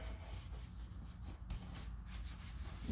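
Finish is rubbed by hand onto wooden woodwork, a soft, continuous close-up rubbing and wiping with faint low background hum and no pauses.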